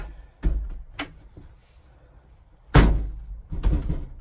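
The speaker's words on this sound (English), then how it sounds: "Let's open that door, close that now." An RV screen door fitted with a Camco screen door bar is opened and shut, giving several sharp knocks and clacks followed by two louder slams a moment apart, close by with no speech.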